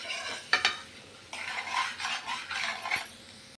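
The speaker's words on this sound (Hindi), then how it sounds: "ऐसे करके मिक्स करिए फिर इसको भूनते रहिए।" Egg bhurji is stirred and fried in a pan: a spatula scrapes and clinks against the metal in a few sharp knocks, followed by a steady soft sizzle with repeated stirring strokes, close and fairly quiet.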